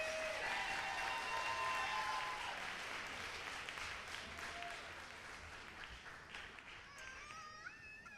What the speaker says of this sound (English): would you give a round of applause and welcome our after-school Zumba girls?